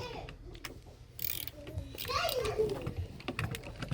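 A screwdriver takes out the screws on a PC case bracket during a build: ratcheting, clicking and scraping at close range, with a voice and other speech over it.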